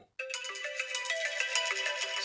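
A bright iPhone ringtone melody plays alone after a short silence, repeating tonal chimes at a steady rhythm, clear and close.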